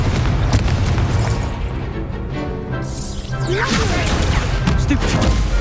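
Confringo fire spell blast in the Hogwarts Legacy video game, a loud booming explosion with crashing debris amid dense, continuous combat noise.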